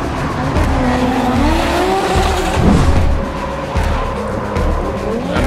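Drifting race cars at a Red Bull Drift Shifters event in Liverpool scream their tires in long wavering squeals over loud roaring engines, the noise sustained and close throughout.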